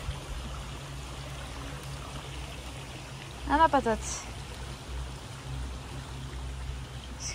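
A river flows steadily with a broadband rush of water, heard outdoors beside a camping-car trip through France; a voice briefly speaks over it.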